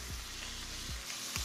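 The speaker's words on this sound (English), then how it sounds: "when your oil is nice and hot, you're gonna place your taquitos right on into that oil." Breakfast taquitos fry in hot oil in a pan, a dense steady sizzle heard close up with a few faint low knocks from handling.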